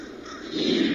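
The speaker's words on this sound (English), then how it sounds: "Sounds like lots of crows, but they're not actually. They're designed to stop the pigeons from, soiling the seats here." A crow-call bird deterrent at a cricket ground, used to scare pigeons, gives a short, rasping caw that rises in loudness over about a second.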